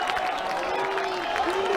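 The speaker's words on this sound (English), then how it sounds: "the Selborne boys giving their boys a big clap off the field there" At half-time of a 2017 schoolboy first-XV rugby match between Selborne College and Grey College, Selborne boys in the stands clap their team off the field, a steady crowd applause with a commentator talking over it.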